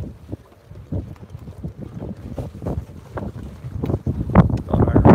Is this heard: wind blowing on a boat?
yes